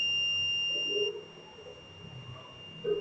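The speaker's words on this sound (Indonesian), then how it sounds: "maka buzzer akan berbunyi." Buzzer on a microcontroller workshop project sounding when its button is pressed: a steady two-tone electronic beep that runs for about a second, then cuts off, leaving faint room hum.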